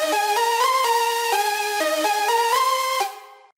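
Synth lead melody layered with white noise from a 3x Oscillator in an arrangement, bright stepping notes with a hissy top, loud and alone, cutting off near the end.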